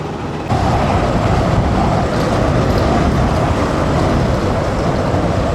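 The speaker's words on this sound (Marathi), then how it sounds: "नेहमी ट्रॅफिक" Steady road traffic on a busy Indian road, a dense continuous rumble of engines and tyres close by, loud and unbroken after a brief quieter start.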